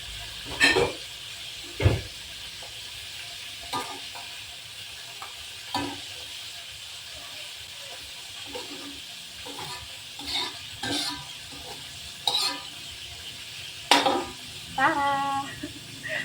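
Fish frying in hot oil gives a steady sizzle throughout, broken by sharp scrapes and clatters of stirring and pan handling at irregular intervals, close by, with no talking.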